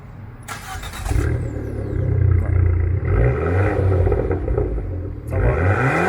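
A 2018 Abarth 595 cranks over and catches with a short starter whirr, then its small turbocharged four-cylinder settles into a loud, throaty idle and is blipped through several rising revs close by.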